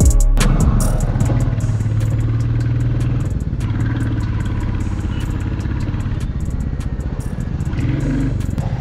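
A Royal Enfield Bullet motorcycle rides along curvy hill roads, its steady engine thump loud and close throughout with wind rush and mechanical clatter, and no talking.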